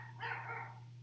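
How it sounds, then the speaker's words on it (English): Dogs let out a single short bark or yip at moderate distance, brief and fairly faint over a low steady hum. "Dogs."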